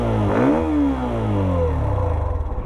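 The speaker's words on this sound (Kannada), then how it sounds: "I think this is the best sounding bike I have heard" A Hero Xtreme 125 single-cylinder 125cc motorcycle engine revs up loudly nearby, climbing in pitch, then settling back into a steady throbbing idle.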